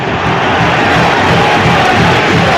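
Dense, steady roar of a football stadium crowd at a Premier League match between Bournemouth and West Ham United, loud and continuous throughout with no clear individual voices.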